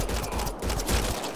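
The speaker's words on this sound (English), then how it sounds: "They shot you." Sustained gunfire in the sci-fi shooter Mass Effect: Andromeda, heard as a dense rattle of rapid shots over a loud, noisy battle bed. It lasts the whole moment with no pauses.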